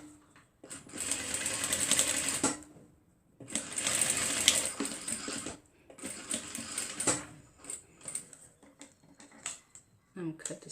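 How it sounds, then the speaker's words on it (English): A sewing machine stitches a fabric face mask in three loud, close bursts of rapid whirring, separated by short pauses with light handling sounds, while a voice speaks intermittently. "Stitch 1 centimeter away from the top part, from right here to this edge,"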